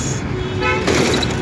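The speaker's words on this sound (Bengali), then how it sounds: "আসছে বাস।" A city bus honks briefly as it pulls up to a bus stop, with the rumble of road traffic and a voice speaking close by.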